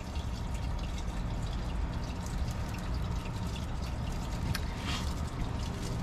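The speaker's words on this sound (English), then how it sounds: "I take this to actually to put water in the top." Water poured onto the top of a paper seed pod made with waste paper, a steady close trickling and splashing that runs continuously throughout.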